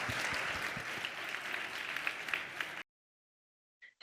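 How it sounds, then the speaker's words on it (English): An audience at a digital health summit session applauds the speakers, steady dense clapping for nearly three seconds before it cuts off abruptly to silence. "I will close this session with the round of applause to our speakers"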